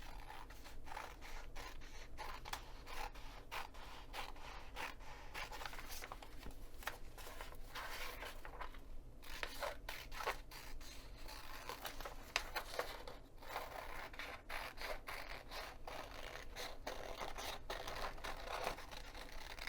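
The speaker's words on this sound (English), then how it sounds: "we're going to cut to the outside of the black line." Scissors snip and scrape through printed paper templates for an English paper pieced pouch, giving quiet close crinkling and repeated cutting clicks throughout.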